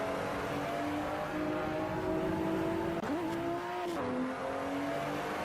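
A race car engine in a sim racing game at Red Bull Ring drones at steady high revs, then jumps sharply twice as the revs climb too high, with no one talking over it.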